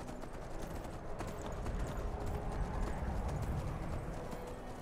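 Horse hooves gallop in the video game Skyrim on an armored mount, a steady fast clip-clop rhythm under a continuous wash of game ambience, close and moderately loud throughout.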